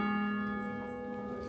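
A single carillon bell note struck in a university bell tower, a sustained, faint metallic tone with a steady hum of overtones that slowly decays.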